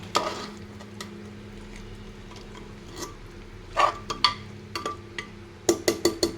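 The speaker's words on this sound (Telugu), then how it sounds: "ఇప్పుడు మనం పచ్చి మసాలా రుబ్బుకున్నాం కదా, అదైతే వేసుకొని ఇలా తిప్పేసుకోవాలి" A spoon stirs ground green masala into chicken frying in oil in a pot, giving a soft sizzle with intermittent metallic scrapes and clinks that grow busier toward the end.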